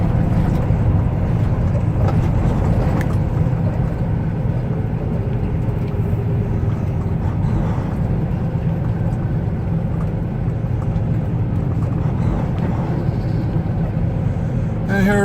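Stop-and-go car traffic on a Chicago road, heard from inside a moving vehicle as a steady low rumble of engines and tires with passing vehicles, continuous and fairly loud throughout.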